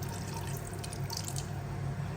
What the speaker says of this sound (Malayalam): നമുക്കിനി നാരങ്ങ വെള്ളം അതിലോട്ട് ഒഴിച്ചു കൊടുക്കാം.